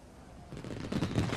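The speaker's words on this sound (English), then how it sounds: "That night, Thomas and James watched the fireworks together." Fireworks burst in a dense, rumbling barrage of crackling bangs that builds and grows louder toward the end, with no voices over it.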